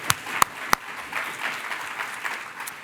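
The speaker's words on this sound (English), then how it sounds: "I want to give you all an applause" An audience at a convening applauds in a soft, diffuse patter. A few sharp, close claps stand out near the start, and the applause continues at a moderate level without voices.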